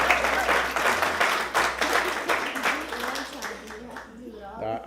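Applause from the public at a Tampa city council meeting, loud at first, then thinning and fading as a voice begins speaking over the tail.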